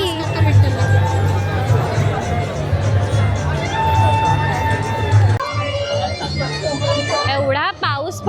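A large crowd gathers at the Aashadi Ekadashi festival by Upavan Lake in Thane after rain, making a dense, steady hubbub of many voices close around, with someone speaking nearby over it.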